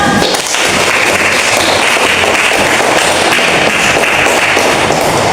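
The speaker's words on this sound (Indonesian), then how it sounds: "Kita berikan aplaus." Classroom applause for a student group that has just presented, a dense, steady patter of many hands clapping at once, loud and sustained for several seconds with no talking over it.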